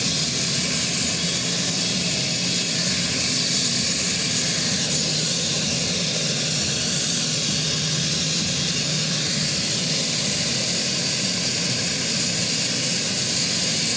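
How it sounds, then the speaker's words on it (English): A helicopter hovers over a football ground at an RAF versus Navy inter-services match, delivering the match ball; a loud, steady rotor and engine roar with broadband hiss continues throughout, no voices. "as we wait for the match ball to come out of the helicopter"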